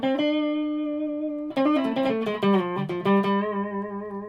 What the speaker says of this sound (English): Just giving it a bit of tremolo, bit of chorus, bit of reverb